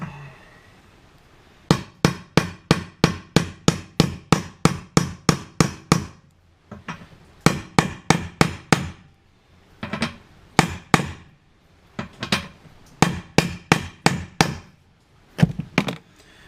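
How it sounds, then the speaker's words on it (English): A hammer pounds a Ford Ranger U-joint through a socket during replacement, sounding as rapid, sharp metallic blows that come in several bursts of many strikes separated by brief pauses. "I may need to hit it a couple more times though."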